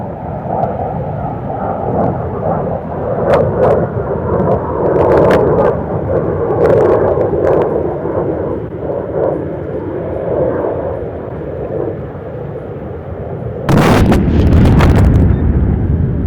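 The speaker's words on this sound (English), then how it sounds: "Both bombs hit almost simultaneously. The bunkers have collapsed." Bombs striking bunker targets at an Indian Air Force firepower demonstration, heard at a distance. A low, rolling rumble with aircraft drone builds across the clip, then a sharp, loud blast near the end is caught with wind buffeting the microphone.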